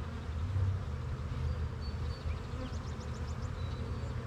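Honeybees hum densely inside a queen-right starter hive, a close, continuous buzzing drone with a few faint higher chirps over it.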